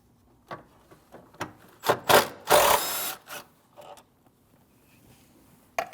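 A 10 mm bolt is loosened and removed from the air filter housing of a 2012-2016 Honda CR-V 2.4L, giving a series of close ratcheting clicks and a louder scraping burst in the middle.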